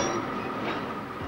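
Freight train working in a largely idle railroad yard, a steady low rumble of rolling cars filling the short stretch at moderate level with no voices.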